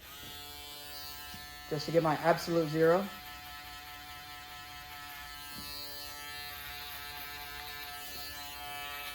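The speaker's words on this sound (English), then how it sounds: "now I'm going to use my box shaver" An electric box shaver buzzes with a steady mechanical hum throughout, close by during a haircut, while someone talks briefly over it.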